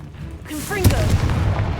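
A Confringo blasting spell fires in the Hogwarts Legacy video game: a sharp whooshing launch followed by a loud booming burst that rumbles on under game music, with no talk.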